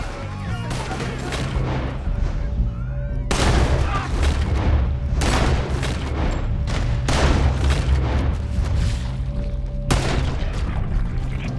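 Rapid gunfire and booming shots from a video game shootout during a yacht robbery, loud bursts repeating across the whole stretch over a steady low drone.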